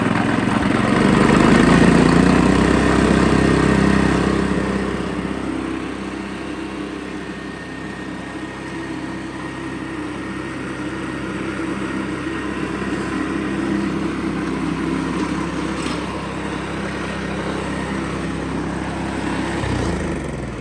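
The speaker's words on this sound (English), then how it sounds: "So in order to start it up, we put the choke halfway, your gas, make sure your gas is on, and then you start it up" A small gasoline engine on a lawn aerator starts and keeps running, loud and close at first, then settling into a steady drone before slowing near the end.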